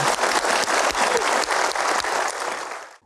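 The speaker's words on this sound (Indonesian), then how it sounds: "Kita berikan aplaus untuk Pak Doni." A studio audience on a talk show gives loud, dense, steady applause that fades at the end.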